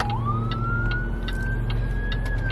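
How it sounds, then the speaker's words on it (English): An ambulance siren wails steadily past, its tone sliding up and holding high over a constant low traffic rumble, fairly loud and continuous with no talking. "Oh, an ambulance."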